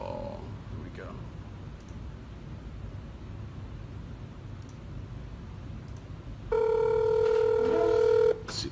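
An outgoing Google Hangouts phone call rings near the end, a steady electronic ring tone that follows quieter room noise and someone talking.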